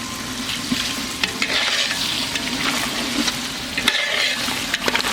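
Chicken frying with salt in a large pot for an outdoor chicken dum biryani, a steady loud sizzle with scraping stirs and clanks of the ladle, no talking.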